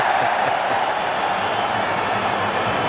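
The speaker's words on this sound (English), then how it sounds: "a big cheer around the grounds" A football crowd at a Newcastle United versus Everton club friendly gives a broad, sustained roar around the ground, a steady wash of noise with no break.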